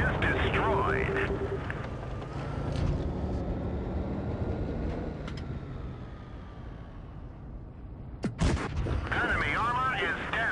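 Booming tank cannon fire from a Chinese heavy tank battle in World of Tanks, with a dense rumbling engine bed throughout and a sharp distant shot near the end, under game radio voice lines.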